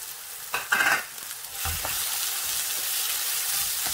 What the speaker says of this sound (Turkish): Sarımsakla da birazcık sotelensin.